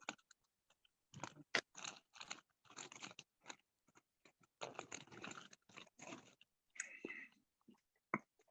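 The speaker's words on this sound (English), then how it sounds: "whoever chewed them chips, them shit sound mad good" Crunchy chips are chewed close to the microphone in repeated loud crunching bursts with short pauses, some quieter scraping and mouth sounds between them, and no clear talk.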